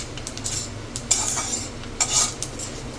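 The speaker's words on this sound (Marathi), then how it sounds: "आपण जे हे आपके खडे मसाले घेतलेत ते पण छान भाजून घ्यायचे" Whole spices dry roasting in a pan, a utensil clinking and scraping against the metal in short bursts over a faint low hiss, with no talking.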